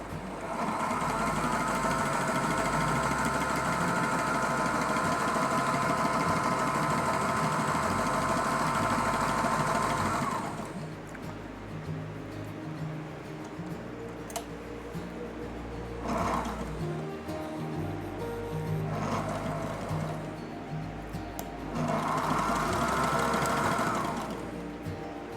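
A sewing machine stitches fabric for a VW Bus camper interior, running in a loud steady drone for about ten seconds, then going quieter with several short bursts of stitching.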